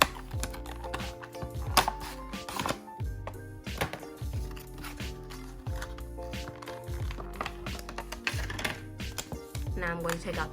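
An iPhone 12 Pro Max phone case package being opened by hand, with close, quiet clicks, taps and crinkles of cardboard and plastic arriving in irregular bursts.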